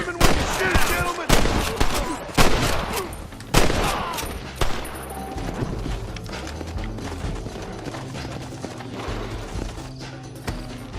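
Gunfire in the Red Dead Redemption video game, several sharp loud shots in the first seconds amid clattering hooves and game ambience, then fading into quieter background with scattered clicks.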